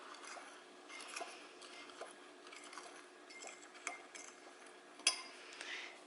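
A fork stirs dry brownie ingredients in a bowl for plant-based, gluten-free stovetop brownies, producing quiet, irregular metallic clinks and light scraping taps, with a few sharper knocks and no voices.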